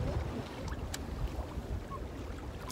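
Cold wind blowing on open water during a fishing trip, a steady low rumble of buffeting wind against the microphone with faint water noise.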